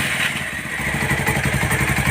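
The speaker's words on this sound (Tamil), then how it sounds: "வண்டி ஸ்டார்ட் பண்ணுங்கள்." A Bajaj Pulsar 220 motorcycle engine, being checked for its cooling system, starts up and settles into a loud, close, rapid thumping idle.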